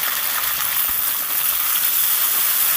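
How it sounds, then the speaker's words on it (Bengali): Okra (bhindi) in a pan of hot oil gives a loud, steady, close-up sizzle, a continuous bright hiss with no talking. "সব ভেন্ডিগুলো আমি তেলে দিয়ে দিলাম"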